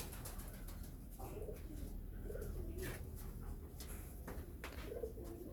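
Domestic pigeons, including pairs of fantail-necked and white-breasted birds, coo softly and repeatedly in a loft, several low throaty calls overlapping at moderate distance with faint background noise.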